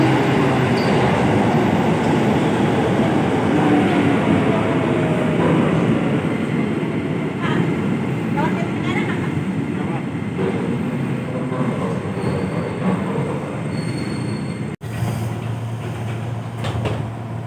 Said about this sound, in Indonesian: KRL-nya sebentar lagi masuk.